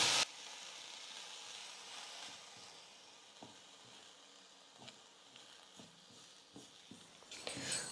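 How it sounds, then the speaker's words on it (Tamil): Black sesame seeds dry-roasting in a pan on a medium flame, giving a faint steady hiss with scattered soft pops and light scrapes. "எள்ளில் இருக்கக்கூடிய ஈரப்பதம் போயிட்டு நல்லா ட்ரையாக வர வரைக்கும் நம்ம வறுத்து எடுத்துக்கலாம்."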